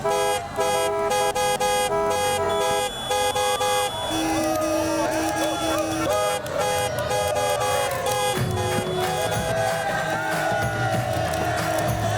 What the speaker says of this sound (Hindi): हॉर्न बजाओ, नहीं तो ये भीड़ नहीं हटने वाली।